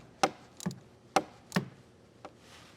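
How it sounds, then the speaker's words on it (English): A wrench or socket tightens a battery terminal on a 2018 Ford Edge with a few sharp metallic ticks and ratchet clicks spaced at irregular intervals, close and fairly quiet, no talking. "we'll tighten that up with a wrench or a socket"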